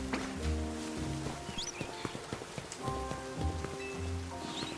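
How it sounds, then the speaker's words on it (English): Steady rain patters throughout a Pokémon video game scene, with soft layered in-game tones and brief chirping effects over the wash of falling drops. "Baneri, you need to be underground, it's raining."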